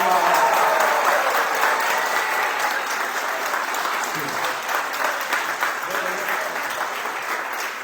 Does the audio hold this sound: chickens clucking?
no